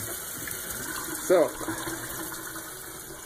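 Tap water runs steadily onto a beach ball in a continuous close gush, with a man's short spoken word briefly over it partway through.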